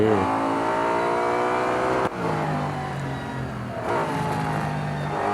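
A loud, steady car engine drone with a rising pitch, briefly dropping off then building again: a 650-horsepower 2016 Nissan Altima accelerating in Real Racing 3.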